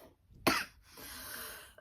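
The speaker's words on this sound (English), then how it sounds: "this cough is like still lingering" A single sharp, lingering cough left over from an illness, close and fairly loud, followed by a soft breathy exhale and faint rustling.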